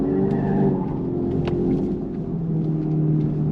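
A 2025 Dodge Charger Daytona Scat Pack drives hard on a race course, its steady powerful drone heard from inside the car with a low rumble and a faint tyre squeal, no talk over it.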